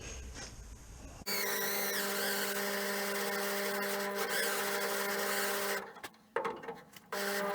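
A spot weld drill bores out spot welds on a Classic Mini floor panel under restoration, giving a loud, steady, close-up grinding whine for several seconds before it stutters and cuts out in short bursts.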